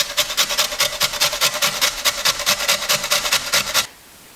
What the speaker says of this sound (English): I'll grate the beet right into that.